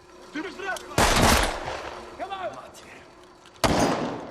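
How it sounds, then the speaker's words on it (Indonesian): Bursts of gunfire in a film shootout between mafia gangs, two loud broadband blasts standing out among sharper scattered shots and background noise, with no clear talk. "alhasil mereka pun saling baku tembak"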